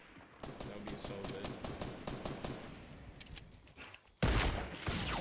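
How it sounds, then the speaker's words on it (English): Gunfire in a Fortnite tournament match: a dense run of rapid shots crackling through the first four seconds, then a single sharp, loud sniper rifle blast and a second burst near the end. "He sniped me, bro."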